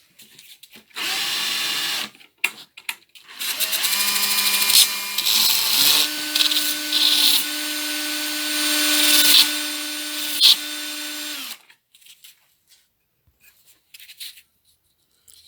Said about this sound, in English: I'm definitely managing to chamfer that just using the homemade disc sander